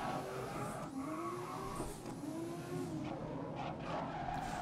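Race cars in the racing game GRID, including Porsches, braking hard: a roaring engine note with shifting pitch, tyres squealing and skidding, cars rushing past, loud and continuous with no talk.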